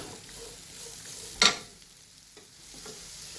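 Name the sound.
sautéing cabbage and capsicum for fried rice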